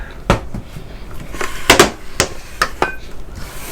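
A mixing bowl lifted off a stand mixer while pound cake batter is being made, giving several sharp metallic clanks and knocks at close range, with softer clatter and handling noise between them.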